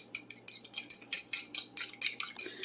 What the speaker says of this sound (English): You're going to take your fork, going to whisk it well.